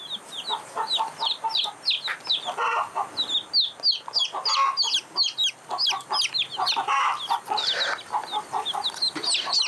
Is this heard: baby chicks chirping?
yes